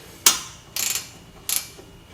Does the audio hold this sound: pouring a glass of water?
no